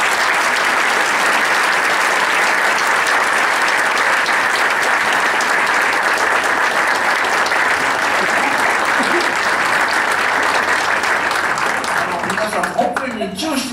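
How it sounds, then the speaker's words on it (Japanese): Guests at a book-publication celebration party in Itoigawa, Japan, applaud during a bouquet presentation, with loud, continuous clapping from a crowd that runs unbroken for many seconds before tapering off at the close. "皆さんもどうぞ大きな拍手とともに、 一緒に贈呈させていただきたいと思います。"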